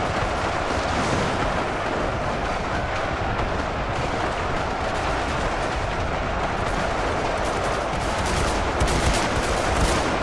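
Rifle fire from an army battle in a video game, a dense, unbroken crackle of many shots layered into a steady loud roar with no talking.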